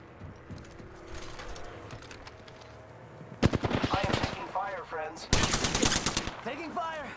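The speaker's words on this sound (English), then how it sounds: "Taking fire!" Apex Legends gunfire erupts in two loud, rapid automatic bursts after a quieter stretch of low game ambience, with voices sounding over the shooting.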